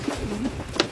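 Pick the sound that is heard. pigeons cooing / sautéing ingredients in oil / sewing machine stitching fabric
pigeons cooing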